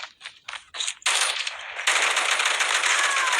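Oden assault rifle fired from the hip in a video game. A few short, punchy bursts give way to loud, sustained rapid automatic fire close up, dense and continuous to the end.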